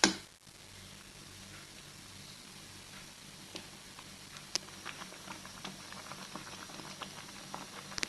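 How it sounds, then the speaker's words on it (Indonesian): Water coming to a boil in a pot in a home kitchen while fried rice with vermicelli is being made, a low steady bubbling hiss with faint scattered pops and ticks, quiet and close, no talking. "sampai mendidih dulu"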